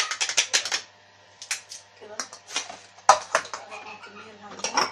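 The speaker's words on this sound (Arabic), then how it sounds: "نفرم بقى، نفرم البصل بتاعي" A knife chops onion on a cutting board in a home kitchen, quick clusters of crisp knocks and clatters up close, with someone talking in between the bursts of chopping.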